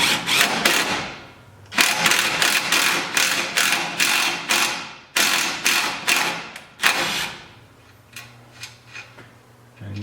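A wrench works studs tight during assembly of a Ford 8-inch axle, giving close, crisp ratcheting clicks in several quick bursts of strokes separated by short pauses, fading to lighter, sparser ticks near the end.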